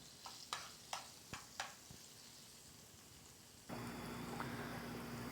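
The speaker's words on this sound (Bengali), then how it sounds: "রসুনগুলা বাদামি কালার চলে আসছে, ঠিক এইভাবে ভাজবেন।" A few sharp clinks of a utensil against a pan, then a loud, steady sizzle of garlic cloves frying with a little salt until browned takes over and continues to the end.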